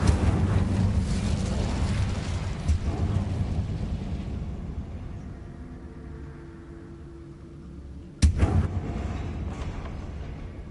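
Incendio fire spell in Hogwarts Legacy: a loud, roaring blast of flame that slowly dies away over several seconds, then a second sharp fiery burst near the end.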